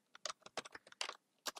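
Keystrokes on a computer keyboard, typed in short irregular bursts of clicks up close with brief pauses between, while entering JavaScript code.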